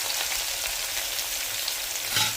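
Crushed garlic and a cup of onion sizzle in hot oil with cumin and mustard seeds, a steady close crackling fry with a brief stir near the end.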